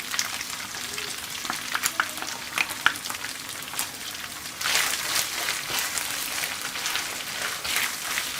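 Tomato sauce hits a hot frying pan and is stirred, giving a steady sizzle with scraping stir strokes. The frying swells louder partway through and keeps crackling to the end.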